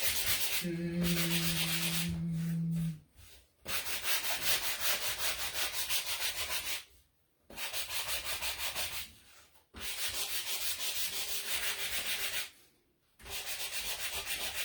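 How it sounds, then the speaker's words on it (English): A sanding block rubs back and forth over the painted edges of a wooden Christmas stocking in close, steady scratchy strokes, pausing briefly between passes, with no talking. "I'm just going to take my sanding block and just really take a lot of that brightness off of there. Sand the edges a little bit"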